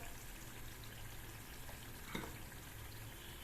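Turmeric, red chili powder and black masala sauté in hot oil for a field bean curry, a faint, continuous soft sizzle with one brief stirring scrape near the end.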